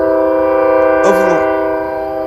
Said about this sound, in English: I mentioned I hate that train